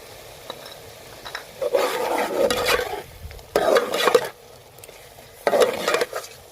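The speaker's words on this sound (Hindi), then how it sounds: "और अच्छे से हम भून लेंगे मसालों को। हम चिकन को अच्छे से भून लेंगे।" Chicken sizzles in a pan with chilli powder, ground cumin, turmeric and salt while a spoon stirs and scrapes it, in three loud bursts with quieter frying between.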